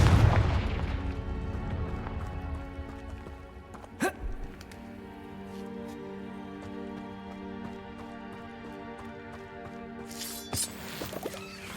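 The Confringo fire-blast spell explodes in Hogwarts Legacy with a sharp, brief burst about four seconds in and another near ten seconds, each standing out over a quiet, humming game backdrop.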